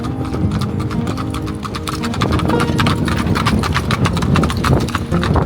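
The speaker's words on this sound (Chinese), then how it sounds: "直到今天你还能看到他们驾驶的黑色马车在雪地中穿梭" Hooves of a horse pulling a black carriage clip-clop steadily through snow in a Mennonite farming town in winter, a brisk even rhythm up close with continuous background noise and faint voices.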